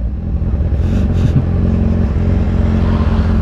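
Kawasaki Z1000 motorcycle engine giving a short, mild rev, a loud close-up droning roar with a steady low rumble that holds for a few seconds on a road.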